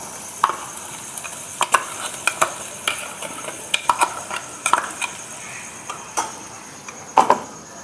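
Ground masala paste hits a hot pan and sizzles steadily, with repeated sharp clicks and scrapes of a spoon stirring against the metal, close and without talk.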